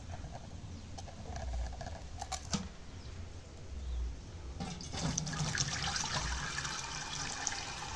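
Hot water is poured off soaked dried fish and the fish are rinsed in a drainer pot, a steady close splashing and trickling of water that rises and continues throughout.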